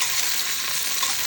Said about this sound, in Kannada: ಈರುಳ್ಳಿ ಹಾಕ್ಕೊಂಡು ಚೆನ್ನಾಗಿ ಫ್ರೈ ಮಾಡ್ಕೊಳ್ಳೋಣ.